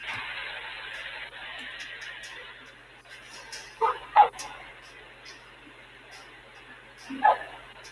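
A dog barks at a strange moving object on a quiet city block at night, a few sharp barks heard at a distance, two close together and one more after a pause, over a faint steady hum.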